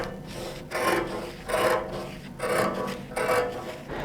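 Shears trimming iron-on interfacing for a shirt placket, with four rhythmic rasping strokes about a second apart, close and fairly loud, and no talk.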